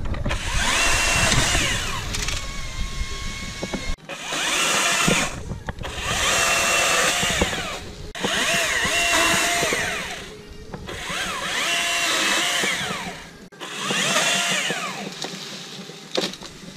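A Husqvarna T540i XP chainsaw prunes a lime tree, cutting close and loud in several long bursts of whining revs separated by short pauses.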